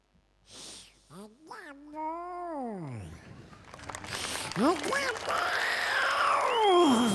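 On a comedy stage show, a voice imitates a cat giving birth, letting out a few drawn-out, rising and falling meows, followed by a busier stretch of squeaky, meow-like cries over noise.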